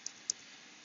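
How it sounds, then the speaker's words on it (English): Two light key clicks from a computer keyboard as a number is typed, faint and close, spaced a fraction of a second apart in a quiet room. "I'm going to type here"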